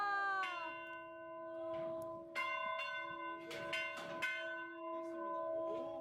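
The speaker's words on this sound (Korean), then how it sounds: "마침 CCC 출신인 수미 언니가 행운의 교회 종치기에 당첨" A historic church bell on Sinan island, once rung before services by an evangelist, is struck by hand; repeated clangs ring out with long sustained tones overlapping, moderately near, with a little background noise.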